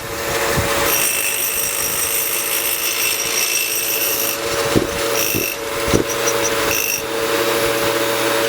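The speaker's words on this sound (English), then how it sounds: "The drills are doing it all." Twin core drills with 28-inch hollow bits grind steadily and loudly through concrete block, a continuous mechanical whine with a few sharp knocks and thumps breaking through the drone.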